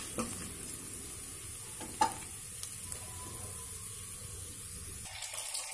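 Amaranth leaves and curry ingredients sautéed in a pan on high heat make a quiet, continuous sizzle broken by a few stirring clinks and scrapes, with no talking.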